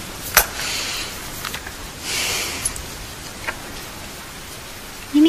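Steady rain falling outdoors, a continuous soft hiss with a few brief louder splashes and drips, heard alone at moderate level.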